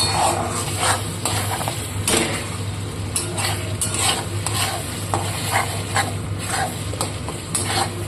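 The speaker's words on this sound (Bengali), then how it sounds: "পরিমাণ মতো চিনি দিয়ে আবারও এটাকে মিশিয়ে দেবো চিনিটাকে ভালোভাবে" Egg curry spice mixture with sugar being stirred in a pan, a steady sizzle under repeated rhythmic scraping strokes of a utensil against the pan, with a low background hum and no talk.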